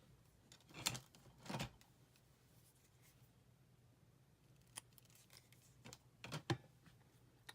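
Scissors snip through card paper while a Mother's Day card is being made: a few crisp, close cuts, two early and a pair near the end, separated by quiet room tone.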